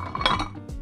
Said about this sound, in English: make sure it's completely full of ice